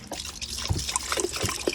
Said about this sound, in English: there's a bit of water inside here